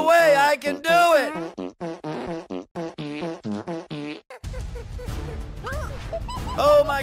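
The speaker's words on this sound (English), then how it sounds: "I'll fart so hard, we'll all run away!" Cartoon fart noise from a comedic CatNap and DogDay animation, with squeaky, musical tooting tones followed by a long, loud rasping burst, mixed with voices talking.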